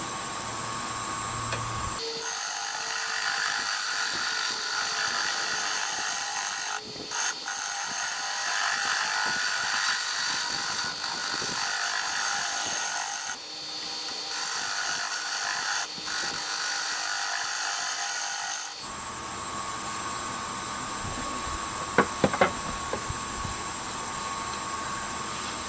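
A maple carver's mallet spins on a wood lathe, giving a loud, steady whirring roar with scraping cutting noise for about seventeen seconds. It then cuts off, leaving a quieter room with a few light knocks.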